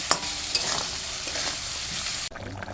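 Potatoes stirred and sautéed in a hot pan for a fish curry, with a steady broadband sizzle, a few spoon scrapes and knocks, and a sudden drop at the end to softer bubbling.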